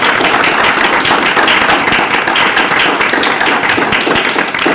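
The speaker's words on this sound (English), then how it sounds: "Can we have a round of applause for those two?" Steady audience applause from a live crowd at a school committee meeting, honoring a keyboard and guitar duo; dense, even clapping that stays loud and continuous throughout.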